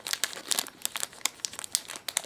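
A plastic bag holding a photo crinkles and crackles in quick irregular bursts as it is handled and opened, close up and fairly quiet, with no talking.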